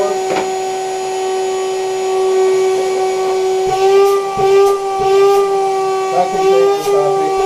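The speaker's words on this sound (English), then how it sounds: "Vacuum cleaner works." A vacuum cleaner runs steadily nearby, a constant high whine with a droning motor underneath and slight surges near the end.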